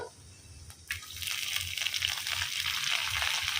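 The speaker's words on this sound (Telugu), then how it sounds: "ఇంకా ఆకుకూర వేసుకుంటున్నాను" A burst of sizzling hiss rises as freshly washed amaranth greens drop into a hot pan, then a steady crackling fry continues close by.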